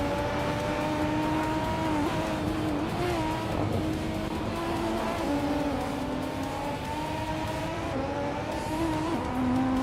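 Kuruma Cup race cars roaring through a video game track with tight corners and fast straights, several engines droning steadily with shifting revs and occasional tire squeal, loud and continuous throughout.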